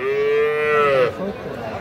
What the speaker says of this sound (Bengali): এটা বকনা বাছুর কিন্তু দর্শক।